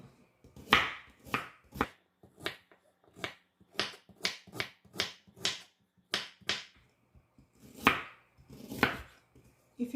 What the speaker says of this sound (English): I'll cut the ginger.